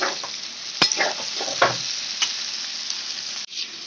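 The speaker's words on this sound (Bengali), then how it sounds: "টমেটো দিয়ে ভাজা ভাজা করে নিচ্ছি।" Tomato and vegetables stir-fried in a pan for chow mein, with a steady close sizzle broken by sharp scrapes and clacks of the spatula.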